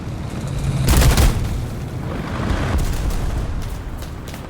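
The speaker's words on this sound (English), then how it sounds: "About as last second as we could have dropped those bombs" Aircraft-dropped bombs exploding in the combat game War Thunder, a loud heavy boom followed by rolling rumble and a second softer blast, alone without talk.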